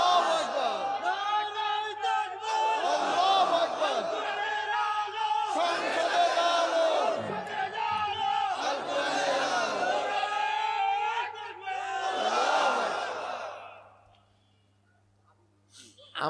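A crowd of young men at an Islamic religious gathering in Bangladesh loudly shouts takbir in repeated chanted bursts, with a strong, sustained swell of many voices that fades out near the end.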